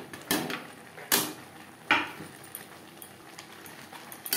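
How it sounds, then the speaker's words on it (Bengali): Potatoes tipped into spice paste frying for a bhetki fish curry, giving three sharp clattering knocks spread over a few seconds, with quiet background noise between them and no talking. "তিন চার মিনিট মশলা বেশ ভালো করে কষিয়ে নেওয়ার পর দিয়ে দেবো আলু।"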